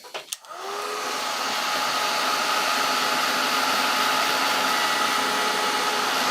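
Hair dryer blowing steadily to dry gesso on a painting of an arum lily, starting after a brief click and then holding a loud, continuous whir alone for several seconds.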